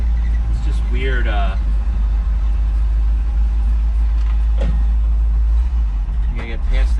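A 1965 Ford F600 truck with a three-speed gearbox and creeper gear drives around town, its engine giving a loud, steady low rumble throughout. People talk over the engine noise.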